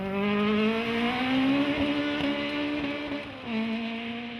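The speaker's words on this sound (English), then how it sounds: "they hadn't lost any of their pace in that Astra" An Opel Astra rally car drives a Trackrod Stages rally stage in a BTRDA 1400 Series round, its engine droning in a steady, moderately distant tone that rises slightly, then drops back.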